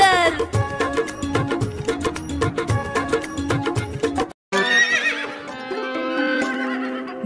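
A horse gallops with quick rhythmic clip-clop hoofbeats, then after a brief break lets out a long, loud whinnying neigh.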